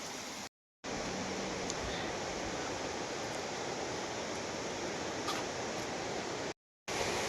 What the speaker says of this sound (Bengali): সাউন্ডটা আপনারা শুনতে পাচ্ছেন নিশ্চয়ই। তো একদম কাছাকাছি চলে এসেছি ঝর্ণা।